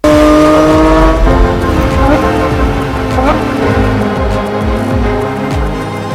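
A 2021 Porsche 911 GT3 built for track driving roars loudly at close range, its engine pitch sliding down and rising with gear changes and tire noise, continuous over the whole stretch.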